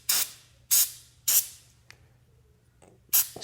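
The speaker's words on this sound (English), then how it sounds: "take the carburetor cleaner, go ahead and spray it real good." Four short, loud bursts of carburetor cleaner aerosol spray hiss onto an idle air control valve, evenly spaced with quiet gaps between, plus a faint click or two, close up.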